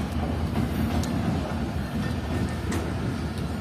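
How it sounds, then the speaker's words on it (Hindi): A train hauled by an HM30 locomotive pulls into platform 1 at Kotri Junction railway station, a steady heavy rumble with rhythmic wheel clatter and faint high squeaks, close and continuous, with no talking. "तो ये HM30 के साथ एक ट्रेन आ रही है, आवाज़ पहचान ली है मैंने"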